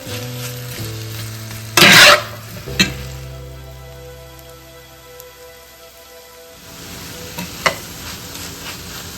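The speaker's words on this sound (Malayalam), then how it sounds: "നമുക്കൊന്ന് വഴറ്റിയെടുക്കാം." Onions sautéed in butter in a skillet, sizzling steadily while a utensil stirs and scrapes, with one sharp loud clatter early on and a quieter stretch before the sizzle swells again.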